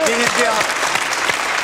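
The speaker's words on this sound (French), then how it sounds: "On applaudit. Bravo." Studio audience applause on a television talk show, a dense wash of clapping under a host's voice speaking a name.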